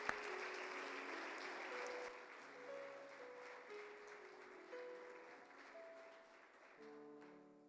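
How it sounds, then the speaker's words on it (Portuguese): A church congregation applauds, the clapping loudest at the start and then fading under sustained keyboard or organ notes, with no speech. "Aplauda o Senhor, queridos."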